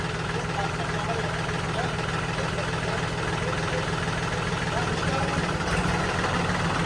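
A farm tractor idles with a steady, low, continuous engine rumble that holds evenly close by, with no clear talk above it.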